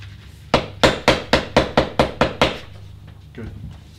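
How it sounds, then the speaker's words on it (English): A hammer knocks on wood nine times in a quick, even rhythm, loud and close, followed by one fainter tap, while assembling a wedding cake. "Let's give it a couple of hammer."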